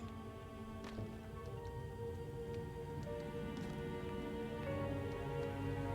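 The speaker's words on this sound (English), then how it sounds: "The rain beats down on the glass above you." Steady rain patters on glass overhead as a continuous ambience, with scattered sharper drip ticks over a low sustained tonal drone beneath.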